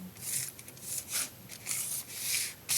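Soft brushing and rubbing of a hand pressing over crumpled brown paper bag on a page to give it a faux leather texture, in a few short swishing passes, close and quiet.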